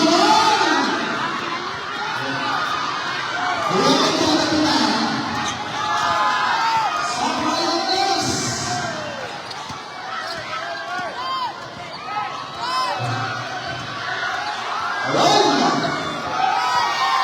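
A crowd cheers and shouts at a basketball game, with loud surges of yelling and whooping rising and falling over a busy court din, and voices chattering throughout.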